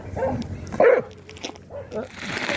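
A dog barks and yips a few times at close range, short sharp calls spread across a couple of seconds, mixed in with a person talking.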